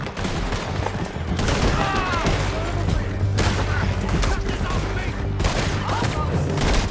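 Riders fire guns in Red Dead Redemption 2, with dense bursts of rapid shots crackling continuously, loud and close, mixed with shouting voices and galloping action.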